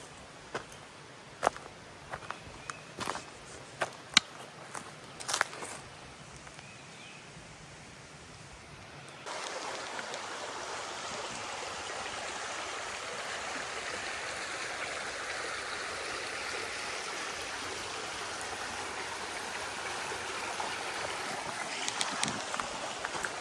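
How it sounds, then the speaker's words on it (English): A creek flows beside a hiking trail on the Ouachita Trail. Scattered footstep-like clicks come first, then a steady, fuller rush of water takes over for the rest, with no talking. "The beginning of this section of the trail kind of follows along a creek"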